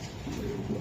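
Brief, close cooing of a racing pigeon, low soft coos over a quiet background, with no speech.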